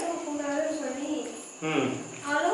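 A high, whining mosquito buzz drones close by in wavering bursts, briefly dipping before returning.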